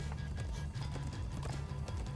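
Horses gallop in the video game Minecraft Story Mode, with steady, loud clip-clop hoofbeats running through the whole stretch and a brief whinny in the mix.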